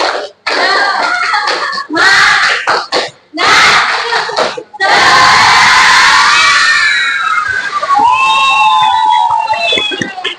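A classroom of students performs a rhythmic clapping cheer, a loud burst of shouting and clapping in short bursts that swells into sustained crowd noise and cheering, with children's voices throughout.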